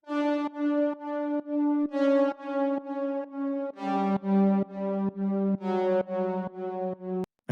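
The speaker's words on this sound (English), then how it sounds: "Was kind of messing around and I found this cool brass preset." Brass synth preset from an 80s sound pack in the Serum synthesizer, playing a sequence of sustained, bright chords in steady pulsing phrases, loud and alone with no talking.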